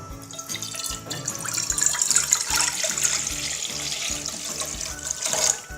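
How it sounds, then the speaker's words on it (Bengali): Water is poured into a pan for several seconds, a continuous splashing rush that swells and ends abruptly, with a low hum underneath. "এখন প্যানে দিয়ে দিচ্ছি পানি পরিমাণ মতো।"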